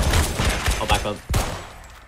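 Shotgun blasts in the Roblox game Decaying Winter sound as a quick cluster of sharp, close gunshots in about two seconds, with one last loud shot.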